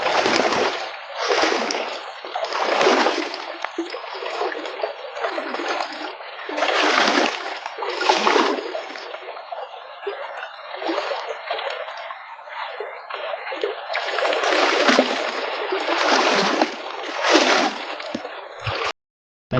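Water splashing steadily as someone wades across a shallow river, rhythmic close sloshes with each step, continuous and fairly loud with no talk.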